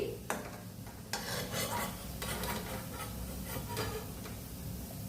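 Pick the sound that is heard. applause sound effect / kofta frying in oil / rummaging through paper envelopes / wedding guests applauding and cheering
kofta frying in oil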